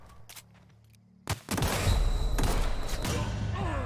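Weapon fire in The Outer Worlds: a few faint shots, then a sudden loud burst of gunfire that settles into a sustained rattling volley with sharp repeated cracks and a metallic ring, no voices.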